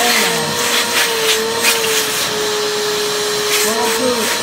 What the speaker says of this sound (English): So I turned on my vacuum and now the suction is back to normal.